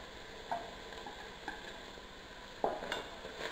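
Corn kernels sizzling in a frying pan as they are stirred, a soft steady fry with a few distinct utensil scrapes and clinks.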